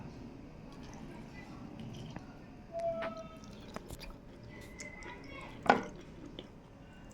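Quiet, close chewing of fried okra with lemon, soft moist munching and squishing with a few small clicks in a calm indoor setting, while a person talks softly.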